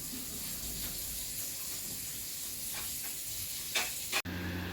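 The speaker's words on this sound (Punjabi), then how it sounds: "ਤੜਕਾ ਆਪਣਾ ਲੱਗ ਰਿਹਾ ਸਾਰੇ ਖੜਵੇਂ ਖੜੇ ਮਸਾਲੇ ਪਾਏ ਹਨ" Whole spices crackle and sizzle in hot oil for a tadka tempering, a steady faint hiss running throughout with a few brief louder pops and a sharp clatter near the end.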